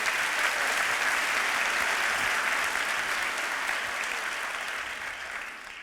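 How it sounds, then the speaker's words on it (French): Loud, dense audience applause at the Opéra for a guest at a public interview, a continuous sustained roar of clapping that gradually fades toward the end with no talk over it. "Vous pouvez l'applaudir."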